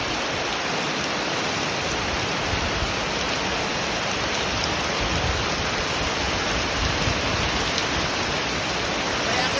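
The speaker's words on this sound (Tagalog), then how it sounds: "bigla nga bumuhos ang pinakamalakas na ulan" Very heavy rain pours down in a dense, unbroken hiss, a loud steady roar of drops hitting surfaces with no pauses and no voices.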